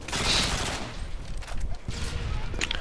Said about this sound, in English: Why do I keep getting shot?